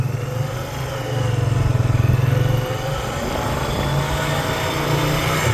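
A Honda Rancher 400 ATV climbs a hill in four-wheel drive, its engine droning steadily and close by. The tone rises and swells briefly in the middle, then settles into an even, continuous hum, with no talk over it.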